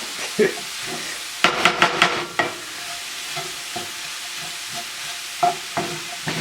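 Bison bolognese mix sizzling in a cast iron pan as it gets stirred, with a quick run of scraping strokes followed by sparser scrapes over a low steady sizzle, close and clear without talking.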